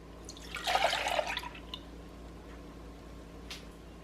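Milk poured into a bowl of wet pancake ingredients, a short liquid splash and trickle lasting about a second, close and moderately loud against a quiet room.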